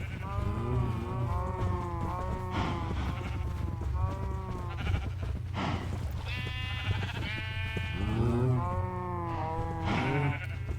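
Several sheep in the video game Minecraft bleat repeatedly, overlapping calls coming one after another over a low steady background hum, with no talking.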